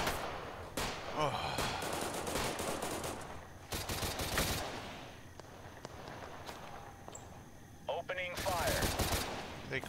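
Video game Total Conflict gunfire: loud bursts of automatic fire and scattered shots across the clip, with faint voices in between.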